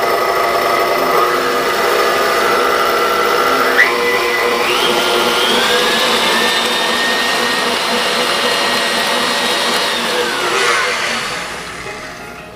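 An electric stand mixer beats banana bread batter at a low speed, giving a steady, continuous motor whir with no talk. The sound tapers off near the end.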